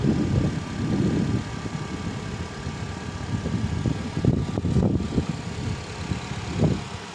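A car engine runs at a steady, smooth idle after a jump start, its low rumble fluctuating slightly and heard alone at moderate distance.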